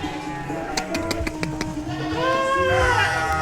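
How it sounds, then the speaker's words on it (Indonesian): Peranakan Etawa goats in a pen, with a few clicking knocks followed by a drawn-out wavering bleat near the end, close by, with faint voices in the background. "Nah, ini kambing PE-nya."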